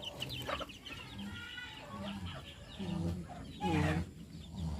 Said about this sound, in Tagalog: Nahingi na ng patuka ang mga manok.